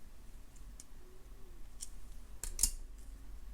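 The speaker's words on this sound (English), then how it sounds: "Snip off the excess, tuck in the little end," Small scissors snip off the excess wire end while a beaded spiral pendant is made. A single sharp, close snip stands out against quiet background noise, with a few faint clicks before it.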